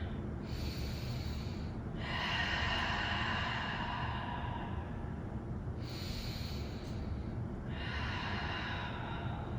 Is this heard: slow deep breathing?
yes